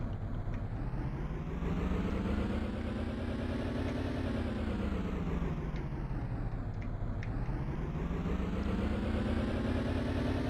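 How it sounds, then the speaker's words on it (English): Steady car engine drone in a vehicle simulation game, rising and falling in pitch as the car moves off the road, continuous and alone without talk. "So let me pull the car off the road"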